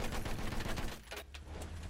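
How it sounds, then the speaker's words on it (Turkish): Enemy machine gun fire in Battlefield 1 rattles as a dense, rapid burst during the first second. A quieter stretch of crackling battle noise follows. "Düşman makineli tüfeği vurdu."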